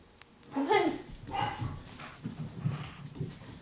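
A poodle whimpers during a retrieve of a bird wing, giving two short high whines near the start, while a person talks over low outdoor noise.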